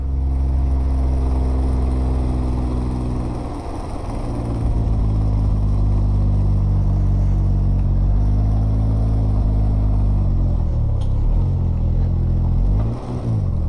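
A Can-Am Ryker three-wheeled motorcycle on the road toward Fort Wadsworth puts out a loud, continuous engine rumble with wind roar and brief dips and surges in revs, heard up close with no talking.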